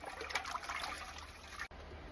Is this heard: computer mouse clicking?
no